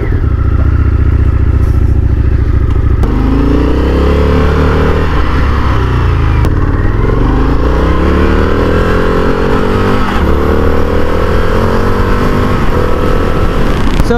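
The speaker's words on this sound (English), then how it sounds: "let's jump back on the bike" Indian FTR 1200 V-twin motorcycle being ridden, a loud close engine drone rising and falling through gear changes and revs, with heavy wind rumble throughout.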